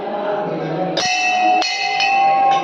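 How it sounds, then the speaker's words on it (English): Metal temple bell struck several times at a Hindu temple in Telangana, bright ringing tones with lingering resonance, the strikes coming in quick succession and overlapping. "See, this is the bell."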